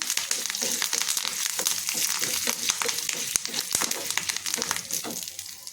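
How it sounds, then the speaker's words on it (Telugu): Dried curry leaves fry in hot oil for an Indian gooseberry (amla) pickle, giving a steady close sizzle with sharp crackles and pops throughout and no talking. "కరివేపాకు వేసుకొని బాగా వేయించుకోవాలి"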